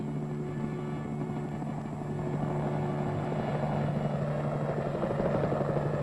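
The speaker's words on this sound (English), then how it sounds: "The possibilities of pickup and delivery of artillery by helicopter is now in active development." A Cold War-era military helicopter carrying artillery, its rotor thumping rapidly and steadily, a loud, close, continuous chopping drone that grows slightly stronger partway through.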